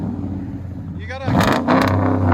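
A RAM 1500 with a 5.7L HEMI V8 and Black Horse Racing exhaust rumbles steadily at close range, its low tone swelling louder partway through, with people talking over it.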